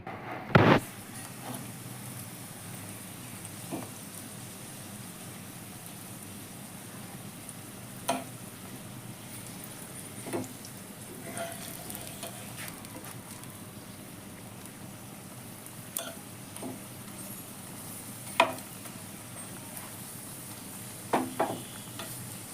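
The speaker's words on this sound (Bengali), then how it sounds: "এবার এটাকে একটু সাইডে রেখে আমি আর একটা পরোটা দিয়ে দিচ্ছি।" An egg paratha fries on a pan with a faint, steady sizzle, broken by a few soft clicks and light knocks from handling, quiet and continuous with no talking.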